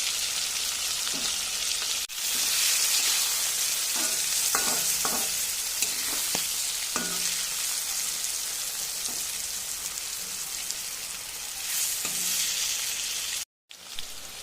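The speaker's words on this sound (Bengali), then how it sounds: "বেগুনগুলো ভাজা হয়ে গিয়েছে" Brinjal slices frying in oil in a pan, a loud continuous close sizzle broken by several sharp clinks of a utensil against the pan, with no talking.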